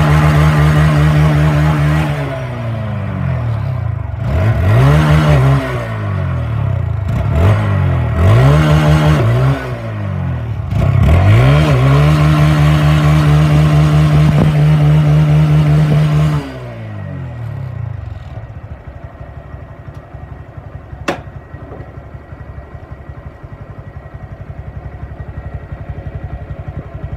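A motorcycle on a newly fitted tubeless tire revs up and rides off, the engine climbing and shifting through several rising pitch sweeps, loud and close, then dropping to a fainter steady drone as it moves away.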